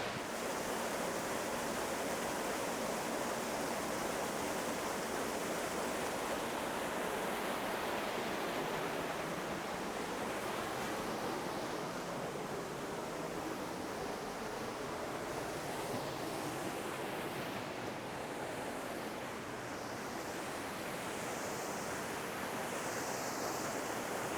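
Waterfall in Luxembourg rushing steadily from close by, a dense, continuous roar of falling water with some wind buffeting, no voices.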